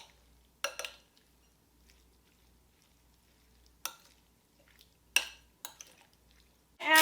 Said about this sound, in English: Now we're going to mix all this goodness together.